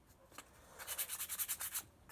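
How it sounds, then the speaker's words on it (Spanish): Sandpaper rubs the surface of a hand-built clay pinch pot in quick, even back-and-forth strokes, soft and close, with no talk. "Lijamos muy bien el interior."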